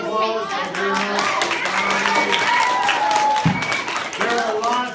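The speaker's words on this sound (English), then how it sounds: "Give me a round of applause." Fourth-grade children in an elementary school science class give a round of applause, brisk clapping that runs throughout amid lively kids' voices and talk nearby.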